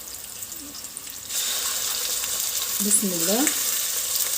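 Meat dropped into a hot pot for biryani, a steady frying sizzle that rises abruptly partway through and carries on fairly loud, with a brief voice speaking before it.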